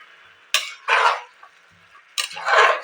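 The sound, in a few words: vegetables being fried in oil and stirred in pan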